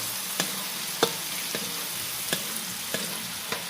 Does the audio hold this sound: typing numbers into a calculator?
no